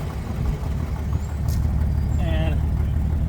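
A 1965 Ford Mustang engine runs at a steady, loud idle with a low rumble that holds for the whole stretch, while voices talk faintly over it.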